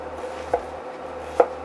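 Two sharp knife chops through an onion on a cutting board, about a second apart, in an otherwise quiet kitchen.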